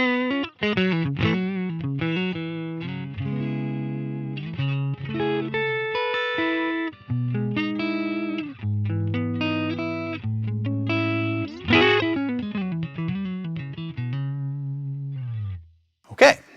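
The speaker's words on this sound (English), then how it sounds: "I am playing my Vigier Expert guitar. I have it on the neck pickup." Electric guitar, a Vigier Expert on the neck pickup, run through a Line 6 Helix amp modeler set to a clean Deluxe-style amp and recorded with a ribbon mic. It plays a continuous, loud melodic passage of single notes and chords with slight effects coloring.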